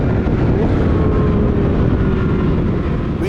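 A 2024 McLaren 750S supercar cruises with a steady, loud engine drone and road roar, the tone holding even throughout with a faint rising whine.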